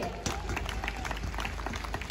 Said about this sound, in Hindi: जोरदार तालियां बिहार के लिए।